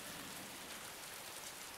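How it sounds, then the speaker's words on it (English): Steady rain falls in the video game Heavy Rain, a dense, even hiss of drops spattering on surfaces that holds level and fairly quiet throughout, with no voices over it. "But it's raining."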